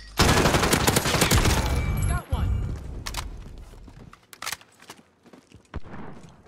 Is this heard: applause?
no